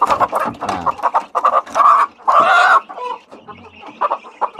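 A rooster, a young breeding-stock cockerel about three months old, clucks and squawks loudly and close up in a series of agitated bursts as it is handled and lifted.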